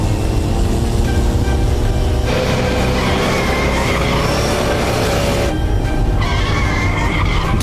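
A car pulls away and skids, with loud continuous engine roar and tire noise filling the whole stretch, shifting in intensity partway through.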